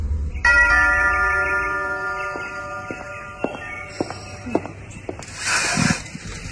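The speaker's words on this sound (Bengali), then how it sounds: "আবার কলিং বেল টিপল।" A doorbell rings out in a bright electronic chime with sustained tones, followed by faint footsteps and a clatter in a quiet indoor setting.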